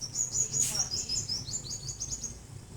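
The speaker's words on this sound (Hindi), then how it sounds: "परिंदों की जो ना बड़ी प्यारी आवाज़ें आ रही हैं" Small birds chirp and tweet in quick, repeated bursts on a calm early morning, moderately close over quiet ambient background, no talk.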